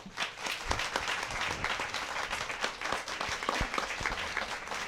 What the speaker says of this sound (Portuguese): Por favor, gente, palmas para o Paulo.